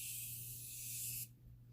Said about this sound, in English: usually I'll use like a little bit of setting spray